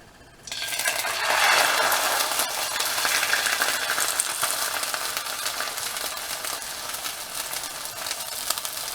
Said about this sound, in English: So now that our pan is hot, we're going to go ahead and add half of the mixture